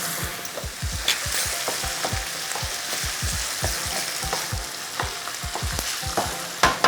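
Grated garlic and ginger stir-frying in a wok for Sichuan mapo tofu: a dense, crackling sizzle with rapid, repeated spatula taps and scrapes throughout, close and steady.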